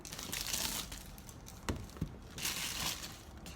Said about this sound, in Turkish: Bunların da hemen jelatinini açalım